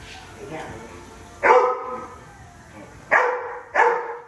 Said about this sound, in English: There's Brew Dog. He's pissed because he's not in the video